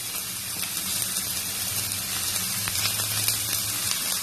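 Chopped snake gourd sautéing in a hot pan, a dense continuous sizzle and hiss that stays even and close throughout with no voices.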